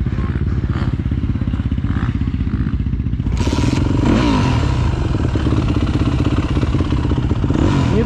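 A Yamaha 250 motorcycle engine running hard and loud up close, its rapid firing pulse steady, then rising in pitch as it revs with some mechanical clatter.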